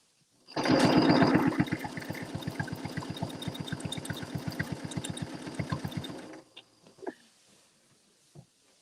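A sewing machine doing free-motion quilting on a free motion glider runs in a fast, even needle rhythm for about six seconds, loud at the start and then steady, before stopping and leaving a few faint clicks.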